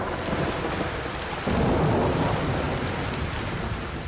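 Steady rain pours down with rolling thunder, a louder rumbling surge swelling midway and then easing back under the constant downpour.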